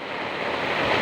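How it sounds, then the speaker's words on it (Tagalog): Floodwater rushing down from upstream during Typhoon Kristine, a loud, dense continuous roar of turbulent flowing water, close and steady, with no talk over it. "malakas pa rin yung dating ng tubig galing doon sa taas"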